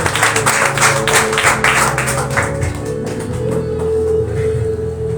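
Church congregation applauding, a dense wash of clapping from many people that swells at first and then thins out, accompanied by sustained instrumental music underneath.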